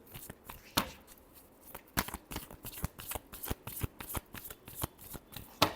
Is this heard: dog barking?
no